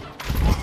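A burst of gunfire from a VR shooting game played on a Meta Quest 3 headset, a short loud blast filling the brief moment with no voice over it.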